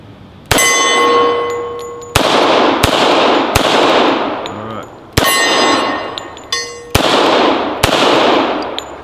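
M1911 pistol shots at an outdoor range, six sharp loud reports spaced a second or two apart, each followed by a ringing metallic clang and a long decaying echo.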